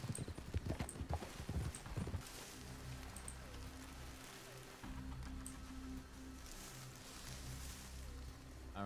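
Horse hooves clip-clop in the RedM roleplay game Red Dead Redemption 2, a quick, loud burst of clattering steps at the start that gives way to a steady low rumble and faint ambient background.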